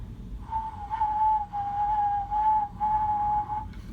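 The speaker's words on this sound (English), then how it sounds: "if you whistle a low note like this" A person whistles a low, steady note with no one talking, holding the pure tone in several sustained stretches separated by short breaths.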